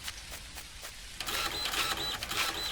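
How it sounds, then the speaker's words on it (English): A soil printer in the video game Dinkum prints, with a soft ticking lead-in giving way to a loud, busy mechanical whirring and chirping that continues to the end. "let's get the soil printer,"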